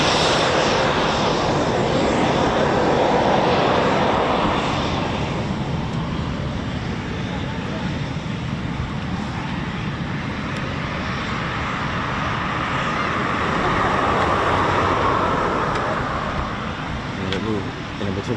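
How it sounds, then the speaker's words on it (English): Eurofighter Typhoon FGR4 jet engines roar steadily at RAF Coningsby, a loud broadband rumble that swells and eases across the whole stretch with no clear pauses. "We're talking about an aircraft that's going to be put for its paces."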